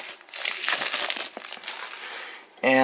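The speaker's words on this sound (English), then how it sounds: "let's try to rip this off here" Customs tape being ripped off a Xiaomi Mi Note 2 phone box, a close crinkling, tearing rasp lasting a couple of seconds, ending abruptly as a voice begins.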